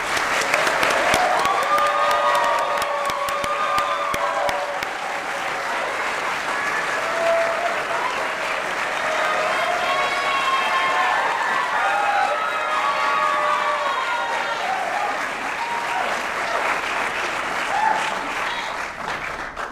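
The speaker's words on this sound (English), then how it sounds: "let's give these candidates a welcoming round of applause right now." A gubernatorial debate audience gives the Democratic candidates a loud, sustained round of applause, with cheering, whistles and shouts running through the dense clapping for about twenty seconds.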